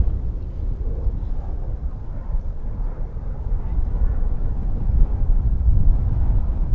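An Embraer 145 LR jet roars down the runway at DFW Airport, a broad, rumbling engine noise that swells slightly louder toward the end, with wind buffeting the microphone.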